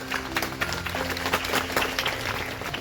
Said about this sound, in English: This calls for a loud applause.